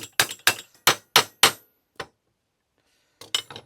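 Sharp metallic hammer taps drive a driveshaft part into place: five quick strikes in a row, a lighter single tap, then a pause before another cluster of close, ringing hits.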